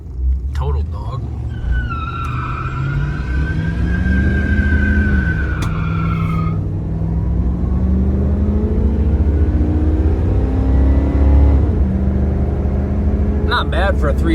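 A 1975 Chevy Monte Carlo with a factory 350 two-barrel V8 pulls hard, its loud, steady engine rumble rising in pitch through the gears over road noise, with a person talking inside the car.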